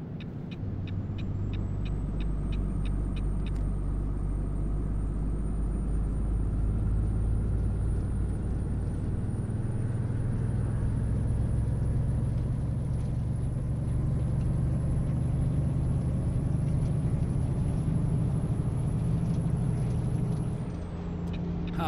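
A truck's engine drones steadily in American Truck Simulator, a continuous close rumble with a thin high whine above it and faint rhythmic ticking early on, sustained for around twenty seconds before easing off.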